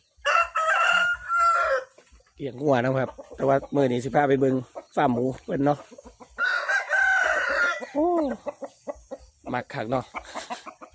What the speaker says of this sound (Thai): ไก่ชน